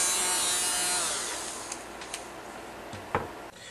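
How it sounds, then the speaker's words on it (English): Electric power sander working along the bottom of a boat hull, a steady broadband whir that fades gradually, with a few brief taps and knocks near the end. "sanded my hull like this with my power tools"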